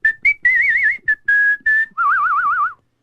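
A lone person whistles a short tune of brief clear notes and longer warbling, vibrato-laden tones, ending on a lower wavering note, close and loud with no talk.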